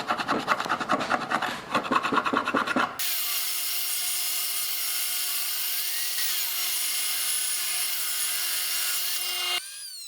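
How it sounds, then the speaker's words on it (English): A glued-up wooden board for a tortilla press gets a few seconds of rhythmic scraping. Then it feeds through a planer, which gives off a loud, steady humming whine that drops slightly near the end. "I'm going to try and remove as much of this glue as I can before sending it through the planer"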